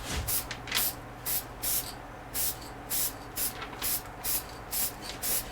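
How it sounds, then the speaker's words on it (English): Spray paint can hissing onto a sign in short repeated bursts, about a dozen quick sharp sprays with brief gaps between them, close and moderately loud, with no talking. "It takes a while to get a hand with that spray can."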